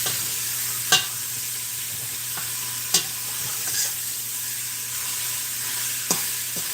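Lasagna soup ingredients, including meat, being smashed down in a hot, steamy pot, with a steady sizzle and a few sharp scraping knocks of the tool against the pot, close and alone.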